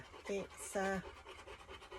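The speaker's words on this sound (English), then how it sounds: "lots and lots of dogs. My 2 are panting like mad in the back because they want to get out" Dogs pant quickly and heavily in the back of a car, short breathy bursts close by, with a voice speaking over them.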